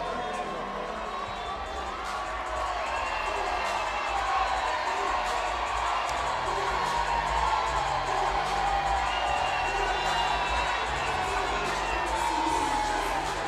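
A packed boxing arena crowd roars and cheers steadily at a bout featuring Claressa Shields, a dense wall of shouting and whoops sustained throughout at full volume.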